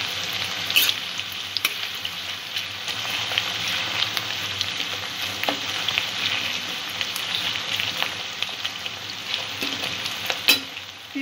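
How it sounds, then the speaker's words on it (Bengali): Onions frying in a pan for chole bhature give a steady, close sizzle with scattered sharp crackles and occasional stirring, no voices. "পেঁয়াজটা হালকা ভাজা হয়ে গেছে।"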